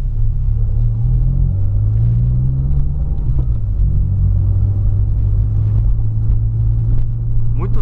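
A Peugeot 208 driving on a track, with a steady low engine rumble and road drone throughout, its pitch shifting slightly as the car changes speed, heard from inside the cabin.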